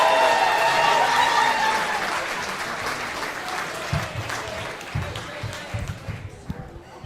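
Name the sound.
comedy club audience applause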